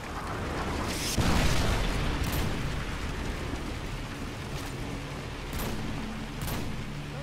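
A predator missile strike in a video game lands with a deep booming blast near the start, followed by lingering rumble and a few later thuds, loud and without talk.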